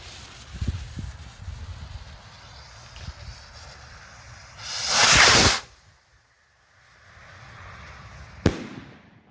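Distant firework pops crackle, then a loud rushing whoosh of a Tiger Rocket launch, followed by a sharp bang of an explosion near the end.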